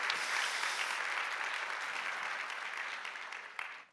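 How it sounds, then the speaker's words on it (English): A church congregation applauds after standing, a dense steady wash of many hands clapping that holds strong, then fades out at the end. "thanks for clapping"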